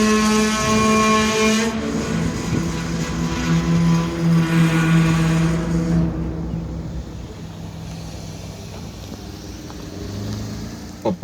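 A freight train comes to a stop on a grade crossing in a rail yard, with loud tonal whining and squealing drones for the first six seconds, then a quieter rumble and faint clanks as it settles.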